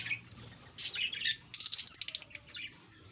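Budgerigars chirping in a home aviary colony, a run of quick bright twittering calls, close and fairly loud, with a denser burst of rapid chirps in the middle and no talk.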